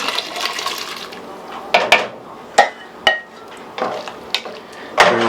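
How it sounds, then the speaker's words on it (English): Potatoes cooked in clam juice tipped into a chowder pot, with a run of sharp, close clinks and thuds of utensil against metal pot amid soft wet shuffling and stirring, no talk. "we'll put our potatoes cooked in clam juice on in."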